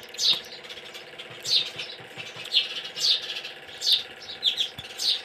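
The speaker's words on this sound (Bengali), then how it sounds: "মাগো দেখো, পাখি আসছে আমাদের ঘরে।" A small bird indoors gives short, high, bright chirps in repeated bursts about every second, close and clear above a steady low background hum.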